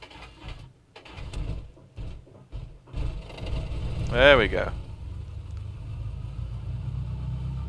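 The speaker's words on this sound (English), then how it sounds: "if you can hear the engine noise above my voice" A simulated Cessna 172 engine starts in the A2A flight simulator on P3Dv4, a brief whine and catch into a steady mid-pitched idle rumble that carries on under someone talking near the mic.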